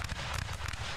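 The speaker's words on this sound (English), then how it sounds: "Wait, I hear musket fire." Musket fire in the video game Rise of Liberty, a dense, noisy rumble of scattered shots with cannon-like booms underneath, all blended into a continuous battle din.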